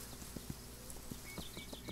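Hoofbeats of a horse galloping in the video game Kingdom Norse Lands, a steady run of soft clip-clop thuds repeating over faint game background sound.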